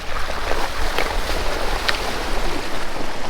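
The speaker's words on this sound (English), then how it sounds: "Your first creek crossing of the trip, our first creek crossing." A four-wheel drive vehicle splashes through a creek crossing in the Kimberley, a loud, rushing wash of churned water and spray that continues throughout, with no talking.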